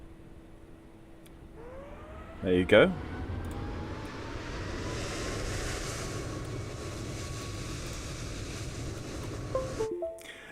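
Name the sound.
F28 airliner engine noise in Microsoft Flight Simulator 2020 video game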